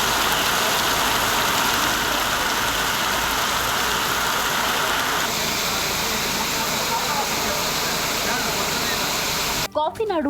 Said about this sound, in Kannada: ಕಾಫಿನಾಡು ಚಿಕ್ಕಮಗಳೂರು ಭಾಗದಲ್ಲಿ ಮಳೆಯ ಅಬ್ಬರ ಮುಂದುವರೆದಿದ್ದು ನದಿ ತೊರೆಗಳು ತುಂಬಿ ಹರಿತಿವೆ